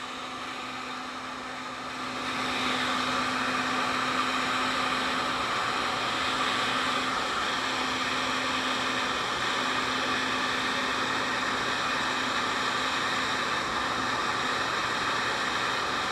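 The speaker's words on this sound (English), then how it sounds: "The gun will take a minute to warm up. I might kick it on high for a few minutes just to get the temperature up." A heat gun switched to its high setting for warming up, used for straightening a twisted bamboo fly rod blank, roars as a steady, loud broadband blow with a low hum, swelling in volume after a couple of seconds and running on without a break.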